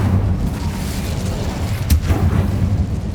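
A fire spell blast in Hogwarts Legacy: a low rumbling whoosh with a sharp crackling burst near the middle, over steady game ambience.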